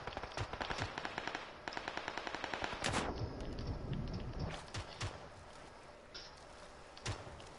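Rapid automatic gunfire in the battle royale shooter PUBG aimed at the player, a fast rattling string of shots followed by scattered single cracks, fairly close and loud over faint game ambience.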